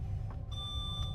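Faint electronic warning beeps sound in a train cab in Train Sim World ahead of a yellow signal, short repeated tones over a steady low engine rumble.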